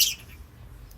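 Small birds chirp faintly in the background over a low outdoor rumble, with one brief bright burst of tweeting at the start and a quieter call near the end.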